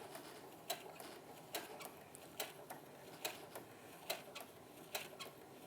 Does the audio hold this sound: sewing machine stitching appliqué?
yes